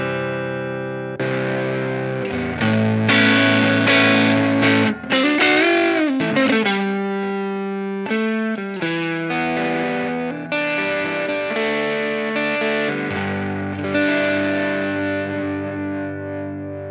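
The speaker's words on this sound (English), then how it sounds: "it's pretty cool to just have this instant distorted boost going on at the end of your chain." Electric guitar run through a Chase Bliss Condor pedal set as a late-chain overdrive boost, giving a loud, continuous distorted tone with sustained chords and shifting, bending notes, played alone with no talking.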